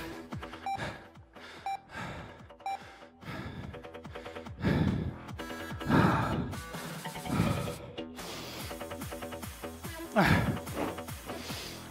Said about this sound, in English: I'm sorry if all you can hear is me breathing.